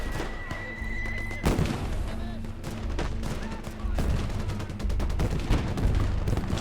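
Gunfire in the World War II strategy game Gates of Hell: Liberation, with repeated bursts and rapid volleys of rifle and machine-gun shots crackling loudly and continuously through the whole stretch.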